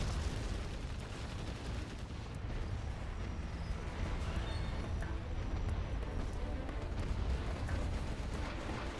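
New cannons firing in the strategy game C&C Generals Zero Hour, a dense, continuous barrage of booming artillery shots and explosions layered into a constant rumbling roar, moderately loud and without pauses.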